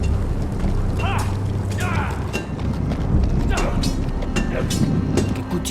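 A horse's hooves clip-clop in the Telltale Game of Thrones video game. The irregular strikes sit among creaks and mechanical clatter, with voices talking over them throughout.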